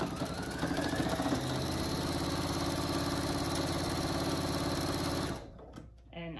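Sewing machine running a long continuous hem on a fabric pillowcase dress, a loud steady close mechanical whir lasting several seconds before stopping abruptly, followed by brief handling noise.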